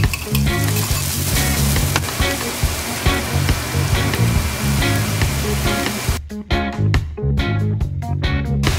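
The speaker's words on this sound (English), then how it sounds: "Igisa ang ground pork sa garlic and onion." Ground pork sautéing in a pan with garlic and onion for giniling. Loud, dense sizzle and crackle throughout, broken by choppy stirring scrapes near the end.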